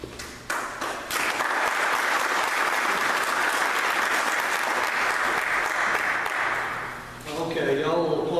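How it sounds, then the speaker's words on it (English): An audience at a Republican-sponsored political forum applauds as a speaker comes up, a full burst of clapping that swells, holds steady for several seconds and tapers as a voice returns at the end. "y'all will applaud now"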